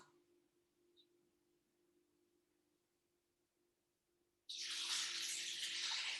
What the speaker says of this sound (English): And then I'm going to do 500 grams of cold water.